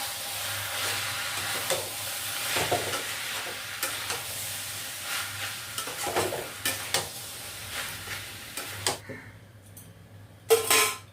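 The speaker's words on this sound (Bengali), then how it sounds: "এর মধ্যে আমি কিছুটা রোস্টেড করা ধনে, জিরে আর মৌরি কিছুটা এখন দেবো, দিয়ে আমি কষাবো" Roasted coriander, cumin and fennel frying with mutton in a pan, a steady sizzle broken by repeated stirring and scraping of a utensil, with a couple of sharp clanks near the end.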